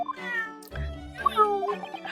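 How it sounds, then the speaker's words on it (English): A cat meowing in the video game Dai Gyakuten Saiban, a few short high meows, close and clear, with some speech-like game sound around them. "Meow."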